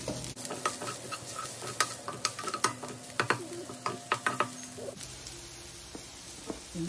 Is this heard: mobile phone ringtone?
no